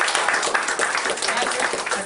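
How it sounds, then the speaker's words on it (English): An audience at a speaking event breaks into a brief burst of dense, steady applause for the speaker. "please give Tony a massive round of applause"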